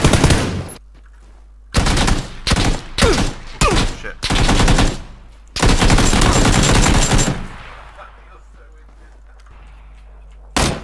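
PUBG gunfire crashes out in loud, sharp bursts, some single and some rapid strings, separated by short silences, ending in a brief quiet tail and one last shot.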